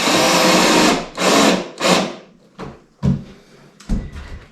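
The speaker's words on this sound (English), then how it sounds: "So I'm going to go ahead and back out my first one." A heavy-duty screwdriver backs a screw out of the hull of a Hobie Passport kayak, giving a few loud, close, separate bursts of grinding and scraping with short pauses between them.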